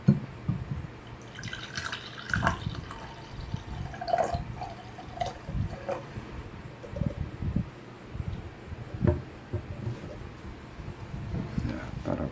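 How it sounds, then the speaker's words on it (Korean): Liquid poured from a plastic milk bottle that swelled in summer heat until its cap burst, with the milk left to ferment: intermittent close splashing and dripping, with soft speech at times. "그러면은 한번 따라 보겠습니다"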